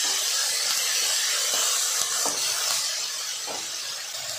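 Fenugreek seeds being sautéed in hot oil for capsicum kiaras give off a loud, steady hissing sizzle with a few faint scrapes, fading slightly toward the end.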